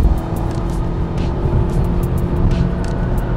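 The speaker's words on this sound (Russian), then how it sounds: "Дали газ в пол. Здесь турбина, она работает." A turbocharged Mazda engine pulls hard at full throttle, a steady loud close-up roar with a whooshing turbo under it, continuous for the whole stretch with no talk.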